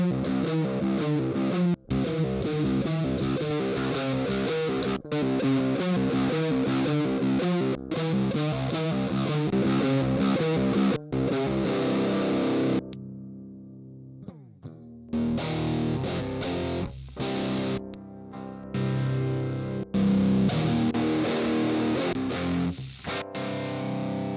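Electric guitar played through the Fire and Sharp presets of the Grind Machine II VST amp simulator, a thick distorted riff chugging in tight palm-muted bursts, with a brief drop-out and sustained ringing chord before the heavy riffing resumes.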